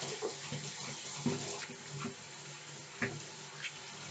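A kitchen tap runs for hand washing while pizza dough is made, a soft steady stream of water with a few faint splashes and knocks, fairly quiet and close.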